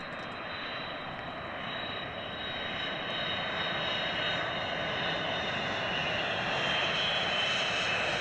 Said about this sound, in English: we're showing RAF Mildenhall with the US Air Force aircraft at the moment